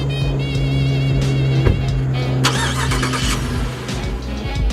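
A 2020 Jeep Grand Cherokee High Altitude with a 5.7 liter Hemi V8 cranks and settles into a steady, loud idle, its engine note holding firm throughout with a brief surge partway.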